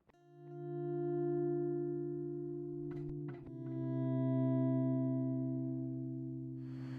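Sustained, smooth electric guitar swells fade in and overlap, ringing out with echoing delay repeats and no reverb; a brief scratchy noise interrupts midway before the drone continues.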